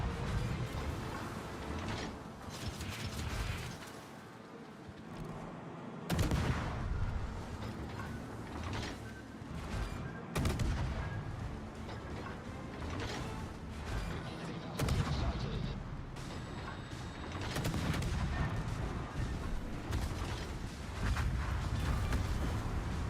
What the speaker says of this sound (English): Why is the Yodo shooting me from that range?